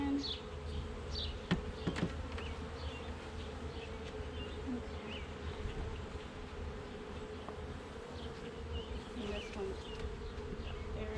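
Honeybees buzz around an open hive while comb is pulled from inside it, a dense, continuous close hum with occasional louder passes of individual bees near the listener.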